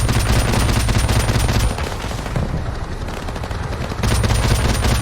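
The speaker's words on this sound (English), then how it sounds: "As they leave, Jackson loosens suppression fire on a building." Sustained machine gun suppression fire from Call of Duty Modern Warfare Remastered rattles in a loud, continuous stream, easing briefly in the middle before resuming at full intensity.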